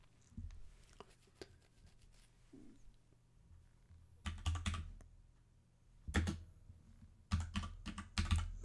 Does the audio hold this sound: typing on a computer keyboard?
yes